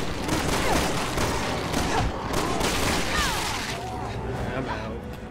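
Rapid gunfire in Resident Evil 6 rattles in dense overlapping bursts and sharp cracks amid chaotic action, with people talking over it.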